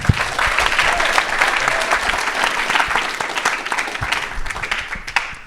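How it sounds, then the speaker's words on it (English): Sustained audience applause fills a conference hall after an interview with a former NBA All-Star, steady dense clapping at close range with no talk over it. "Another round of applause."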